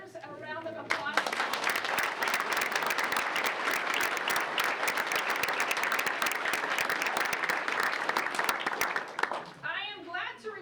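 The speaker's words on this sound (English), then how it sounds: "So I would ask that you would give all of these rodeo art winners a round of applause." Applause from an audience honouring rodeo art contest winners at a public meeting, a dense, sustained patter of many hands lasting several seconds, with a voice talking briefly before and after.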